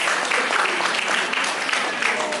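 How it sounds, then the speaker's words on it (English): Audience applause at a Ghana paediatric society gathering for the KNUST Hospital team after their retinopathy-of-prematurity presentation; a continuous, even wash of clapping holds steady across the short stretch. "Let's give them a round of applause."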